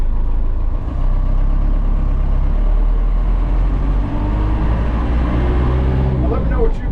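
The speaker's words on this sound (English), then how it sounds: "Like, hear that turbo?" A turbocharged Cummins diesel swapped into a Ford Bronco runs with a loud, steady, deep engine rumble and a rising turbo whine near the end, while people talk over it.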